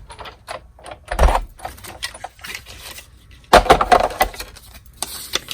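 A Big Shot die-cutting machine cuts paper for a tiny keepsake box, giving soft clicks and rustles followed by two louder grinding, clunking bursts as the plates roll through, close up with no talking.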